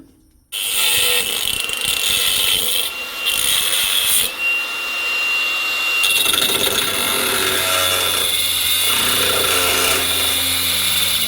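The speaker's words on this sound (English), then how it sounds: "That's enough to drill a hole through it?" A loud, steady mechanical whine of a power drill boring a hole through metal on a Mitsubishi Magna street stock race car, grinding on for several seconds, shifting pitch partway through, close by with no talking.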